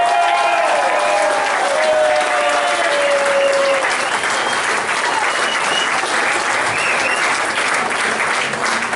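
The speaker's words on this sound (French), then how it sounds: "Vous pouvez l'applaudir bien fort parce que c'est un palmarès exceptionnel." Loud, sustained applause from an audience at a pétanque awards ceremony, a dense even roar of clapping that holds steady throughout, with a few voices briefly audible at the start.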